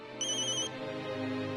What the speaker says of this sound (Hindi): एक मिनट, मानव का फोन।